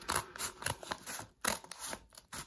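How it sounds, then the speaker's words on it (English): Scissors snip through packaging while a Magic: The Gathering card is being opened, a run of short, crisp close-up cuts and scratches in an irregular rhythm with no talking. "let me get a pair of scissors"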